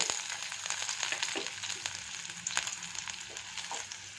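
Chopped onion going into a spoonful of hot oil in a frying pan, giving a steady, close sizzle with faint crackles and soft stirring taps throughout, no voices.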